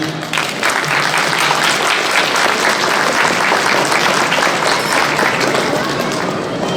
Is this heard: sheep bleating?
no